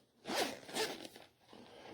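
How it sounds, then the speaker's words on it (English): A zipper runs around a hard-shell case made for a label printer, two quick close rasping pulls followed by a softer drag, with no talk. "You can hear it's a nice solid hard case, nice zipper all around it,"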